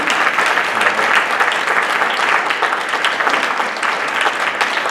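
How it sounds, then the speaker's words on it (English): Steady applause from an audience at a senior project community night, continuous and fairly loud throughout with no voices over it. "give me a clap one more time"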